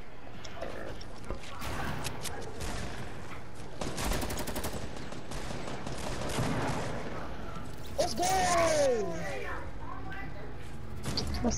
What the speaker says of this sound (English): I'm shooting